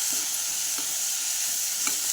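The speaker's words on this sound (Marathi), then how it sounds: "असं परतलं गेलं पाहिजे तेलामध्ये" Washed moth beans sauté in hot oil in a pan, giving a steady close sizzle with a few light stirring taps over the short stretch.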